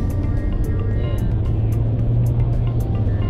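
A Honda Insight hybrid car with an Atkinson-cycle engine and electric motor assist accelerates, giving a steady, loud cabin drone with a humming engine tone and a constant road rush, no voices over it.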